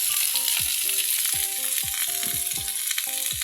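Chayote sautéed in a frying pan gives off a steady, close sizzle that runs throughout, with recurring tonal sounds layered in the background.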